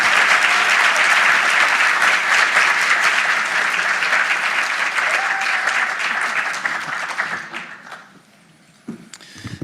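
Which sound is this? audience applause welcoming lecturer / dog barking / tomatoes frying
audience applause welcoming lecturer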